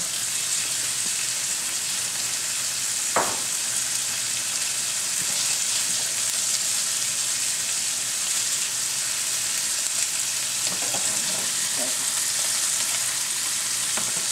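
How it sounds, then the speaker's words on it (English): Steady, loud sizzling of steak frying in a pan, with a few faint clinks and scrapes of utensils. "Steak cooking"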